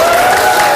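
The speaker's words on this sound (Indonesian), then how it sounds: "Oke, tepuk tangan." A classroom group gives a brief, dense burst of clapping, close and loud, lasting under a second.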